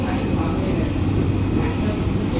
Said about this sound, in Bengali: ট্রেন এই মুহূর্তে নৈহাটি জংশন রেলওয়ে স্টেশনের 6 নম্বর প্ল্যাটফর্মে এসে পৌঁছালো।